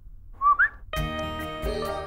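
A man's two-note wolf whistle aimed at a woman, short and clear against near silence, then a swell of dramatic background music.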